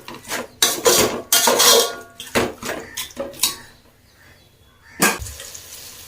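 Tomatoes being sautéed and stirred in a pan for chicken biryani, heard as a run of loud metallic scrapes and clanks of a spoon against the pan in bursts, then a quieter stretch and one final clatter.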